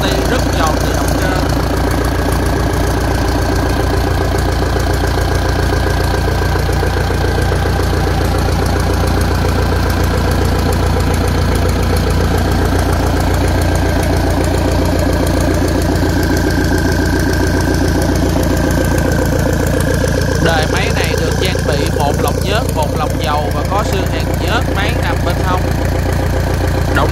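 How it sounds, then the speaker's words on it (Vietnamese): A Mitsubishi 100 hp turbocharged high-speed engine runs steadily at 2900 RPM, a loud continuous mechanical drone with crisp firing pulses throughout, and a brief rattling burst of higher clatter near the end. "Mọi người đang nghe âm thanh nổ ra thì rất giòn từ động cơ."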